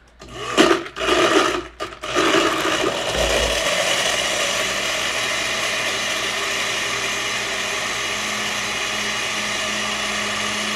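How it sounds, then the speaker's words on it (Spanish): Blender mixing a non-alcoholic strawberry piña drink with evaporated milk, a few short rattling pulses first, then a steady whirring motor held loud and constant to the end. "lo ponemos a batir"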